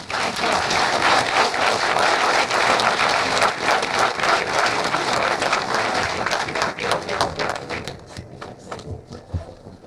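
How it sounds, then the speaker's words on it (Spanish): A large audience applauds at a talk on Azua and the Constitution, dense sustained clapping for several seconds that thins out and tapers toward the end. "Yo creo que se merece un aplauso."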